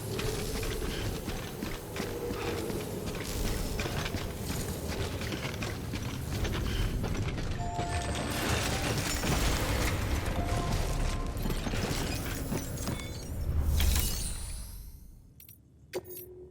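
Decontamination machinery in Death Stranding churns with a dense mechanical clatter of whirring, rattling and ratcheting parts that runs steadily for a long stretch, then swells into a final hissing whoosh before it cuts off.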